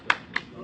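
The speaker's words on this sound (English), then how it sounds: "And you give yourself a round of applause." Three sparse, separate hand claps from a small group at a final exam review session, brief and close, spaced about a quarter second apart.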